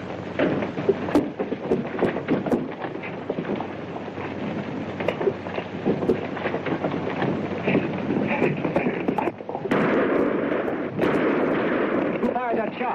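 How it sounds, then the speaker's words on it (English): Gunshots in an old Western radio-style drama, sharp cracks scattered over a busy bed of hoofbeats and commotion, with voices mixed in throughout. "Who fired that shot?"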